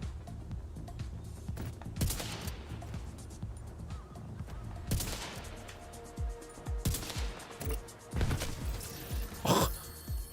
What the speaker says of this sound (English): Oh, get hit with an explosion.